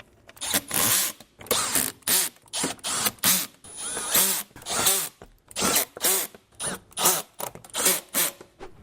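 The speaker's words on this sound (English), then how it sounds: "reinstall the 8 Torx T25 screws" A ratchet driving Torx T25 screws back in on a VW Golf R during radiator reinstallation, a series of quick, close, bright clicking bursts repeating in an irregular rhythm, with short pauses between strokes.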